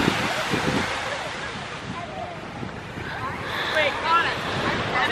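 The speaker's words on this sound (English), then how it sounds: "Oh, the waves look like they're picking up a bit now." Ocean waves surge and break at a surfing beach, a continuous rushing wash that swells louder near the end, with gusty wind buffeting the microphone.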